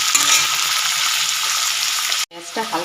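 Onions frying in a pan for a dried-fish mash, a steady close sizzle throughout, cutting out abruptly near the end before a few stirring scrapes return.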